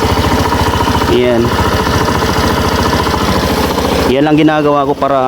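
A Suzuki Burgman Street scooter engine running steadily at close range, a continuous throbbing idle while someone talks over it.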